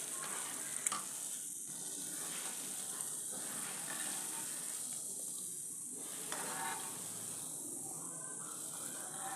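Rava paniyaram fries in a pan with a constant soft sizzle and hiss, a steady crackling texture lasting throughout with a few light clinks, quiet and close with no voices.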